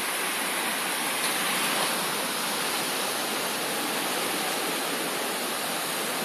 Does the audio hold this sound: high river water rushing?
yes